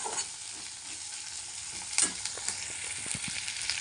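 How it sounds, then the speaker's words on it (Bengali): Chili chicken pieces fry lightly in a pan with a steady hiss, and scattered small pops and a louder clatter come up around the middle. "চিলি চিকেনের তো বেশি করে লাল করে ভাজতে নাই, তাও হালকা একটু ভাজি"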